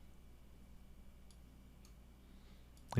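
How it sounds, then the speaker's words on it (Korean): Computer mouse clicks while working in the 3ds Max material editor: a few faint, sparse clicks over quiet room tone, then a louder, sharper click burst at the very end. "여기도 하나 클릭해 주시고 더블 클릭"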